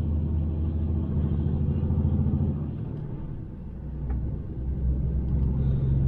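A new truck's engine labours up a steep hill, giving a steady, loud, low rumble with slight swells in intensity. It runs continuously with no talking.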